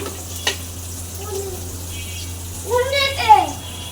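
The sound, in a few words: teasel gourd frying in a pan for breakfast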